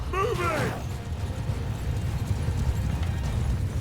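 Horses clatter about in a battle in the video game Mount & Blade II Bannerlord, a steady low rumble of hooves and battle noise running throughout, with a short rising cry early on.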